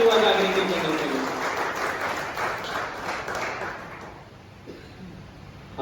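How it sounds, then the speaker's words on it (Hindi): An audience claps loudly at a stage gathering for Yuva Jagriti Kendra in Jharkhand, a dense wash of applause with some voices that thins out toward the end. "पूरा जोर से ताली बजाइए युवा जागृति केंद्र के लिए।"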